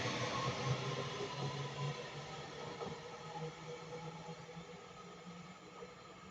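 A Class 331 electric train on the service from Manchester Piccadilly moving through Handforth station, giving a steady, moderately loud rumble and hiss of wheels on rails that holds for several seconds, with no talk.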